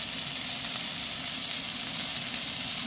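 Pointed gourd and potato pieces fry in a pan, giving a steady, even sizzling hiss that runs unbroken throughout at moderate volume with no voices.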